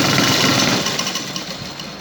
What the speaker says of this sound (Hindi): और सिलाई लगाएंगे पैर की मशीन के साथ।